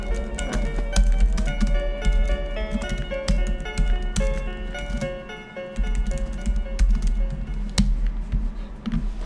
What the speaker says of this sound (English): So I'm typing to my friend.